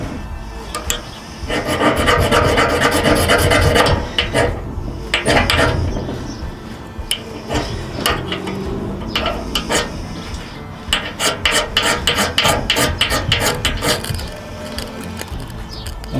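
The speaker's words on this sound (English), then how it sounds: "we'll try and take the spark off the ferro rod with the scraper that comes with it." A ferro rod scraped by the scraper from a pocket fire kit gives repeated harsh rasping strokes, bursts of scratchy metallic scraping that come and go in uneven runs, close and fairly loud, with no talking.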